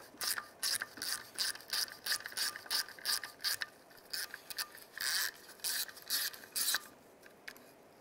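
Socket ratchet clicking in quick bursts of rapid pawl ticks with brief pauses, close and clear, while loosening a bolt on the ignition control module of a 1992-1996 Ford F-150.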